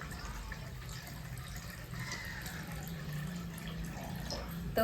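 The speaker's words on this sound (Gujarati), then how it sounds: "તો આપણો પાણી અંદર નાખી દીધું છે" Water is poured into a steamer pot holding a stand for patra, making a faint, steady trickling splash throughout.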